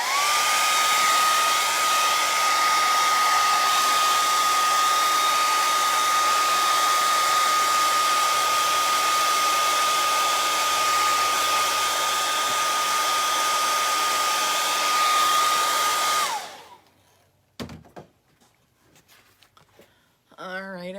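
Hair dryer blowing on a painting of a flowing river, a loud steady whirring roar for about sixteen seconds before it cuts off, followed by quiet handling noises.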